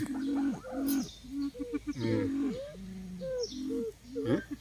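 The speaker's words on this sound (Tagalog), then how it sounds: "Yung mga kaibigan nating mga ibon." Several birds call in a run of short, tonal coos and chirps at Eden Nature Park, fairly close and clear, repeating irregularly over a few seconds.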